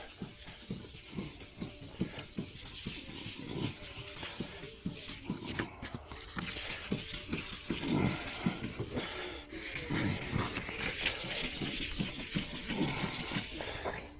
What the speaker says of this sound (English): I got a piece of 400 grit, wet and dry. So you just go over these areas here.